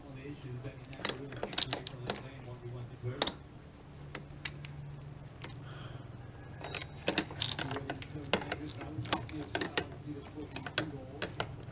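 A ratchet wrench cranks a bolt tight in the engine bay of a squarebody Suburban getting a Vortec 8.1 swap, giving scattered close clicks and clacks in short bursts over a low steady hum.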